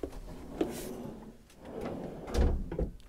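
A storage drawer beneath the bed in a Princess 68 yacht cabin slides open or shut, giving a few close wooden knocks and a rumbling glide.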